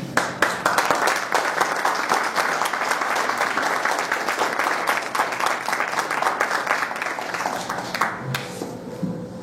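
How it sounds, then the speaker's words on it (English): Sustained applause from an audience at a talk on the war on drugs, dense steady clapping filling the whole stretch and thinning slightly near the end. "Let's everybody give him another round of applause."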